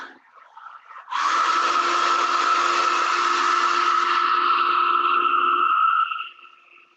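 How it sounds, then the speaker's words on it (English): A hair dryer switches on with a sudden whoosh, blows steadily with a loud airy whine for about five seconds, then shuts off and winds down. "I don't want to wait for that to dry, so I have my handy dandy hair dryer"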